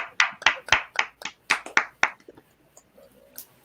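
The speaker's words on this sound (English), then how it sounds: "Give yourself a round of applause." A small audience at a 2020 Oscar trivia contest gives brief applause, a handful of distinct claps ringing out in quick succession for about two seconds before dying away to quiet.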